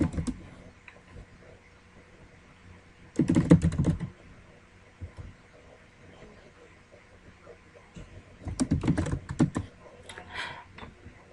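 Typing text on a computer keyboard while using the Photoshop CS5 text tool: two short bursts of rapid, close key clatter, separated by quiet stretches with a few isolated clicks.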